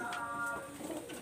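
Pigeons cooing close by, a soft, brief throaty warble with a low rolling pulse that lasts about a second.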